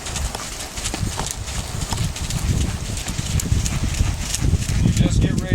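Rhythmic hoofbeats of a previously unridden Mustang mare being ridden in a training session, steady clip-clop under a trainer's talk, with wind and rustling behind.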